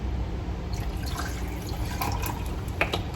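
Ocean Spray Cran Pineapple juice pours into a glass as a cocktail chaser, a steady trickling liquid stream with a few brighter splashes, close and fairly quiet.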